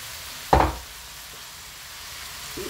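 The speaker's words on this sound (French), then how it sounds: "Je viens rajouter tous les poivrons." Peppers added to a hot pan for mesemen filling hit the oil with a loud burst of sizzle and a quick stir, then settle into a quieter steady frying hiss with a faint scrape near the end.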